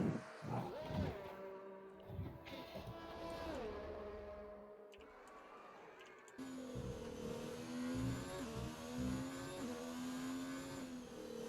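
Race cars in a PC racing video game roar down the main straight of the Australian Grand Prix circuit, engines rising and falling in pitch as they pass, loud and continuous with several overlapping cars.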